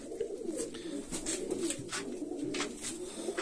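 Pigeons cooing in an aviary, a soft continuous murmur of low coos from several birds, steady and fairly close, with no talk.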